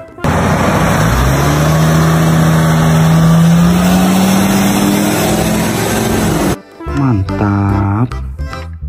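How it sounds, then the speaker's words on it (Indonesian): A loud school bus engine runs steadily with a rising hum for several seconds, then cuts off abruptly into a brief different mechanical whirring. "Ada mobil bus sekolah."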